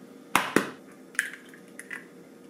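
Eggs cracked one after another for cake batter, two sharp near cracks close together followed by softer taps and shell sounds, with no talking.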